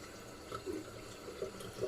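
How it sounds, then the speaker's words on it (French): Water from a tap runs in a soft, continuous flow while suds are rinsed off, faint and close with small splashing variations and no voices. "on vient se rincer bien comme il faut"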